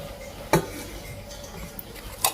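A cooking pot is set out while a Thai pickled bamboo shoot curry with tilapia is being made, giving one sharp metallic clank, then a fainter knock near the end against quiet kitchen background.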